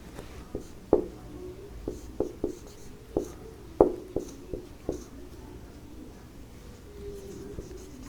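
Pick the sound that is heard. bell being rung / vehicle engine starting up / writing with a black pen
writing with a black pen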